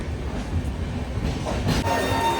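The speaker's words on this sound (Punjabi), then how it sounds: "ਹੁਣ ਚੱਲ ਪਈ ਟ੍ਰੇਨ ਰੋੜਕੀ ਤੋਂ" Hemkunt Express passenger train rumbling through a rainy station at Roorkee, a steady loud low roar of carriage and wheel noise with a brief swell of clatter near the end, no voices.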